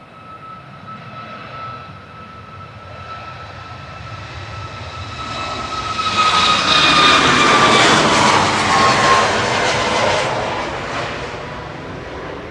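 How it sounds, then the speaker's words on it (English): A Ryanair jet on the runway at Manchester Airport roars through its takeoff roll, engine whine building to a loud broadband rumble that peaks and slowly fades at a distance. "Ryanair making full use of the full runway."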